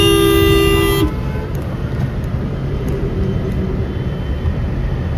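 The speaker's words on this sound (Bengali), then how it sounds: "প্রচুর লরি, ট্রলার।" Road traffic in a jam of many lorries and trailers near Kolkata, one loud sustained horn blast at the start, then a steady rumble of idling engines and passing vehicles.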